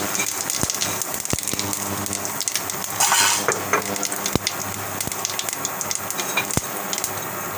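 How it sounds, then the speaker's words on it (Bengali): Whole cumin seeds sizzling in hot oil, a loud close crackling hiss with scattered sharp pops and spatters throughout and a brief swell of stronger frying in the middle, with no voices. "আমি গোটা জিরা দিয়ে দিলাম"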